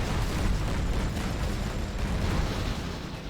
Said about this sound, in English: every time the tanks are firing, the screen shakes as part of the animation in Zero Hour